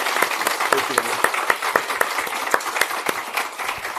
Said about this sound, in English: A round of applause for all our guests.